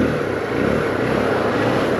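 Keeway TXM125 motorcycle riding around town, a steady, loud engine drone mixed with wind rush, close and continuous without clear rev changes.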